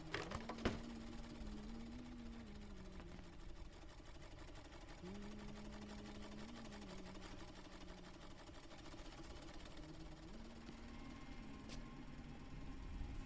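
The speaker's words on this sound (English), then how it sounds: "The sewing machine's going." Sewing machine running in a video game, a faint, steady mechanical whir with rising and falling drones in bursts of a few seconds, plus a couple of sharp clicks, quiet throughout.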